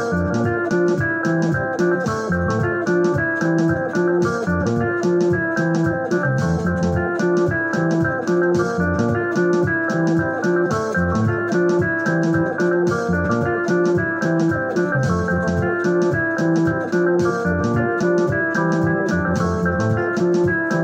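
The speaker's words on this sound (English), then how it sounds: "So now we are going to play it with our bass." Bass guitar playing a makossa groove, a steady and busy syncopated line that keeps going without a break, loud and close, with no talking over it.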